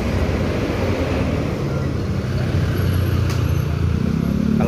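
A long-distance Padang–Jakarta bus rumbles in as it enters Ranah Minang, a steady, close engine drone with road noise and a deeper swell toward the end.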